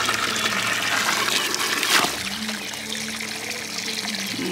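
Water runs from a garden hose into a container outdoors on a ranch, a steady trickling, filling flow heard close and fairly continuous, with a brief louder splash partway through.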